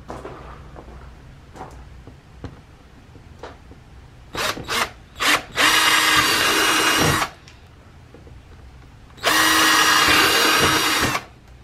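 Power drill boring holes into a Mazda RX8 bumper: a few short whirring bursts, then two long, loud sustained drilling runs close by, with quiet pauses between.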